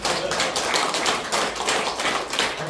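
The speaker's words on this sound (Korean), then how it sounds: "박수 한번 쳐요." An audience claps steadily at a Korean political campaign event for a 21st presidential election candidacy, dense overlapping hand claps at an even level throughout with no speech over them.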